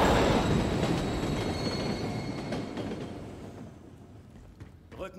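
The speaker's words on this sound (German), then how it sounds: "Gleiskreuzung, auf die Züge aufpassen." A train rumbles past a rail crossing in the video game Call of Duty: Modern Warfare 3, a loud, heavy rolling roar with squealing wheels and metallic clatter that steadily fades away into the distance.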